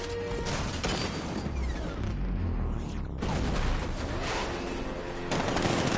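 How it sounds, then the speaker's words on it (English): A tank's 60mm cannon fires in a Batman video game, making a loud, dense barrage of booming shots and crackling impacts that carries on almost without a break. "60mm cannon operational."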